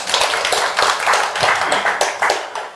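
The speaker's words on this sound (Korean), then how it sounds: "토론을 박수로 부탁드립니다" Audience applause at a Korean labour union (KCTU) panel debate on the welfare state, a dense, steady patter of many hands clapping close by for nearly three seconds with no voices over it.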